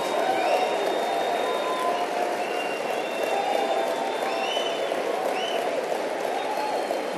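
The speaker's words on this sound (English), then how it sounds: "Give yourselves a round of applause." An audience at a motivational speaking event applauds, dense steady clapping with occasional cheers and whistles sustained throughout at moderate level, no speech over it.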